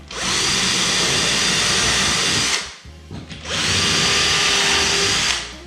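Power drill boring a small pilot hole into the back of a wooden plank for a terrarium build, a loud steady whine running about two and a half seconds, a brief pause, then a second equally loud burst.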